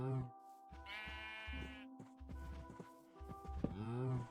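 Sheep bleat in the video game Minecraft on a farm, with several harmonic bleats at the start and end, a steady game music tone, and soft blocky thumps and footsteps between them.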